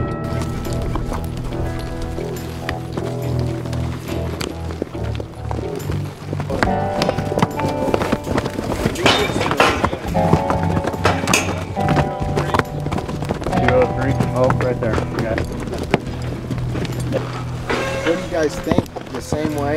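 Hooves of a bronc horse clip-clop steadily during ranch bronc riding practice, heard under a dense, loud mix of other sound and voices.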